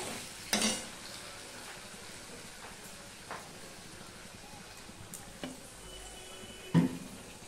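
Fish curry masala sautés in a pan with a low, continuous sizzle, broken by a few sharp clinks and scrapes of a spoon against the pan.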